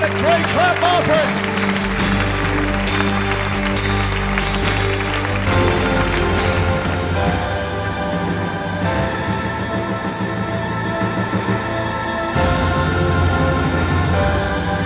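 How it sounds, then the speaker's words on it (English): A church congregation at a Christian City Church service in 1991 claps and cheers in praise, with loud, continuous crowd noise over music-like tones, alongside voices. "Give the Lord a great clap offering."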